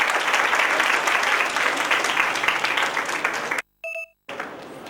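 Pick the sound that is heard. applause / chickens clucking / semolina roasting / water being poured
applause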